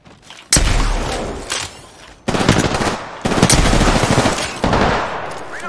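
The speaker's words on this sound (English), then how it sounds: "I'm getting shot at!" Loud bursts of automatic gunfire from a battle royale shooter, heavy rapid volleys in several separate runs with brief quieter gaps between them, close and dominant with no talk over it.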